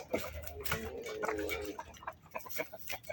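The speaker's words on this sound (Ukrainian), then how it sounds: "Це наші кури, півні." Soft clucking from a few hens and roosters, fairly quiet and somewhat distant, with scattered rustling around the calls.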